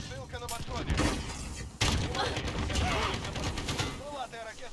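Bursts of gunfire and explosions crackle in a busy Call of Duty: Modern Warfare (2019) soundscape, with mechanical clanks and a voice speaking over the action.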